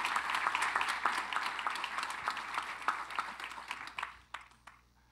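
Audience applause at an evening panel event celebrating civil rights figures Medgar and Myrlie Evers: a lively round of clapping that thins into scattered individual claps and dies away near the end.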